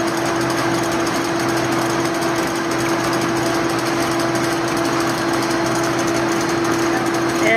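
A paper folding machine runs steadily while working a plow fold, giving a loud, continuous mechanical drone with a steady hum and a rattling, chattering texture that holds without a break.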